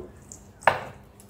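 A single sharp knife chop through peeled garlic cloves on a cutting board lands mid-clip, close and crisp against a quiet kitchen background.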